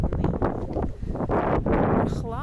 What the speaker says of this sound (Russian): Ну, ветерок такой прохладный.